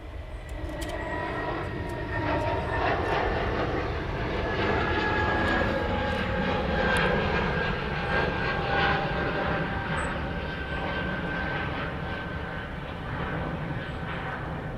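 A fixed-wing airliner departing Manchester Airport roars steadily through the whole stretch, a broad sustained engine rumble at moderate distance with no talk over it.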